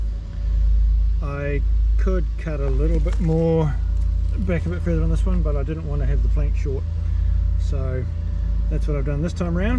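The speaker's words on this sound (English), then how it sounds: "There was a roller compacting the shingle for the tennis court going in next door." A roller compacting shingle for a tennis court being built next door gives a constant low rumbling drone in the background while someone talks steadily over it in the foreground.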